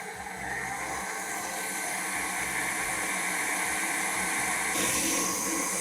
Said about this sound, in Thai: จะตีด้วยความเร็วต่ำนะครับ ให้ เกิดฟองนิดหน่อยแล้วค่อยๆใส่น้ำตาลนะครับ